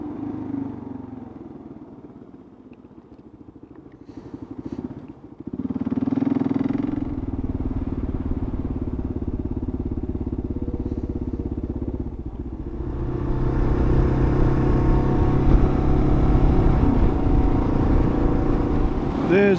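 A Kawasaki KLR adventure motorcycle rides along a road, its engine droning near and steady, quieter at first and then rising to a louder, rougher rumble with wind noise.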